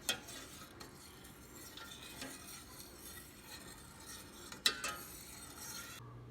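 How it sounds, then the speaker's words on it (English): Mulled wine (Glühwein) being stirred in a pot on the stove, giving a steady soft liquid swish with a couple of light utensil clinks against the pot, close and fairly quiet, with no voices. "And continue to stir."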